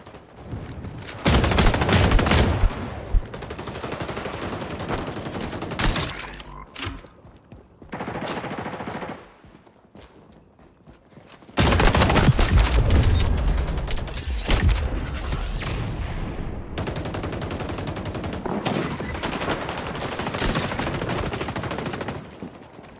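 Mark 20 SR rifle firing in the shooter game XDefiant: loud bursts of rapid gunfire broken by short pauses and a longer quiet gap, then sustained firing resumes.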